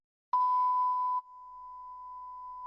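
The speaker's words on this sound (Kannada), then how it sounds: "ಈಗ ಇಲ್ಲೊಂದು ಬೀಪ್ ಹಾಕ್ಬೇಕು ನಾನು" A single censor beep: a pure, steady electronic tone that starts sharply, holds loudly for just under a second, then continues at a lower level until the end.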